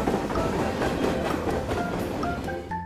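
A train departs a railway station with a steady, close rumble and rhythmic wheel clatter, and a rising tonal squeal emerges near the end; no voices are heard.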